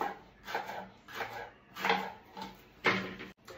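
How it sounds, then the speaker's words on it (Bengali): Ripe bananas sliced into round pieces on a board, a series of soft knife chops about one every second, close and fairly quiet, with no talking. "এবারে আমি পিস পিস করে কেটে নেব গোল গোল"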